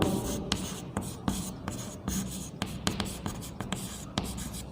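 A pen writes an answer by hand, close scratchy strokes with sharp taps and rhythmic scribbling that runs continuously and carries no speech.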